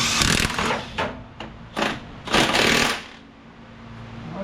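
An impact wrench tightening a bolt on the center support bearing of a C10 pickup: several loud, close rattling bursts of hammering, short and stuttering, with brief gaps between them.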